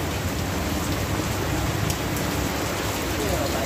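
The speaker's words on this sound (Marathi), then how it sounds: "पाऊस खूप जोरात चालू आहे आज, भिजते आज पावसाने" Heavy rain pours steadily as a dense, close hiss of drops striking surfaces, loud and unbroken throughout, with no clear speech over it.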